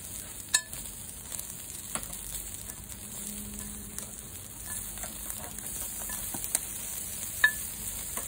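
Steady sizzling of a hotdog on a grill, a bright crackling hiss with a few light clinks of utensils and no talking.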